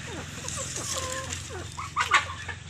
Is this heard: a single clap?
no